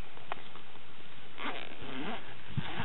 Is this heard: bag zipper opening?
yes